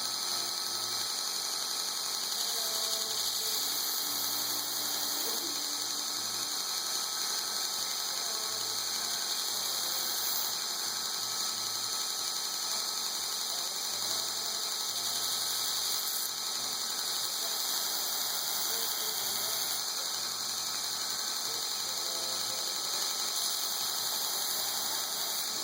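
A belt grinder runs with a sharp belt against a knife blade, giving a steady mechanical whir and hum with faint rhythmic clicking, unbroken across the stretch with no voices.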